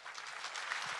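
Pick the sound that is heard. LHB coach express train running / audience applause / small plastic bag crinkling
audience applause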